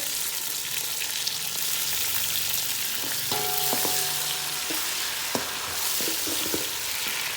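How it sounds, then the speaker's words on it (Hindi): Chopped tomatoes tipped into onions frying in ghee for a rajma curry, a loud continuous sizzle with clinks and taps of utensils scattered through the middle. "अभी मैं डाल रही हूँ ये टमाटर"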